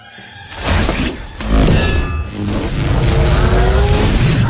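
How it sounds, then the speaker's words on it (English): A lightning effect from Thor: Love and Thunder, a loud crackling, tearing electrical roar with rumbling bursts that surges and sustains for several seconds. "That's the sound of lightning."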